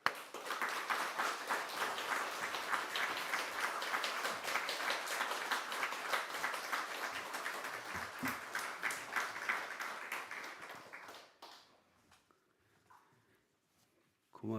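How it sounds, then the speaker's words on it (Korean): A church congregation applauds for about eleven seconds as a pastor comes forward, with sustained dense clapping that thins out and stops, leaving near silence. "여러분 나오실 때 우리 큰 박수 한번 올려드리겠습니다"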